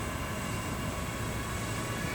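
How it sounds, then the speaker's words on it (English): An Armattan Badger 6-inch DJI quadcopter flies nearby with a steady, dense whirring drone that holds at an even level throughout, without any voices. "what I really wanted from this quadcopter was like the ability to fly really smoothly"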